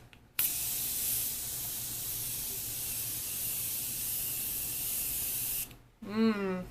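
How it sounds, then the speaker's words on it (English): A long, steady hiss of makeup setting spray misted onto a face for about five seconds, close and even, then cuts off as a voice begins speaking. "So we're going to just spray the face."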